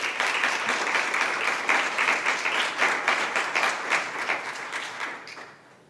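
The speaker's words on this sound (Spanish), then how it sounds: "queremos darle la bienvenida con un aplauso" An audience applauds to welcome a speaker at a conference session on digitalisation of Aragon's creative and cultural industries. Dense, steady clapping from many hands fills the room for about five seconds, then fades away near the end.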